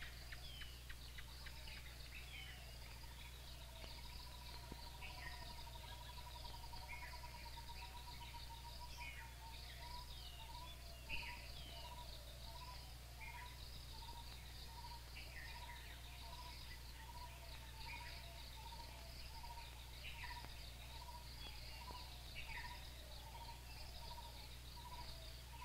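A forest soundscape around a monks' community, with a steady chorus of insects and crickets and faint bird chirps layered over a constant low background hum, distant and quiet throughout.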